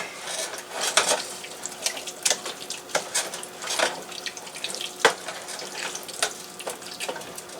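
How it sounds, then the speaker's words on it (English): Cranberry mixture heating in a pot, stirred and mashed with a spoon, giving wet squelching and bubbling and frequent sharp clinks of the utensil against the pot in an irregular rhythm. "Keep it stirring, and I'll smush on it a little bit."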